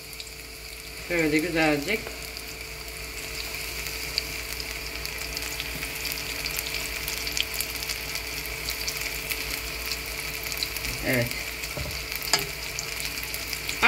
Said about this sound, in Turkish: Kızartacağım arkalı önlü.